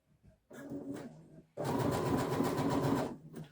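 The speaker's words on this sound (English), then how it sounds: "So change your machine to zigzag" A home sewing machine set to zigzag stitch runs around the edge of a fabric tote bag, giving a short burst, then a longer steady whirring run at close range with no talking.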